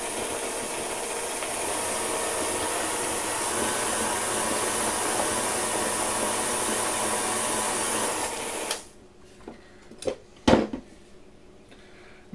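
An electric mixer beats thick homemade cake frosting with a loud, steady whirring drone, then cuts off, leaving a few clattering knocks of the beaters and bowl.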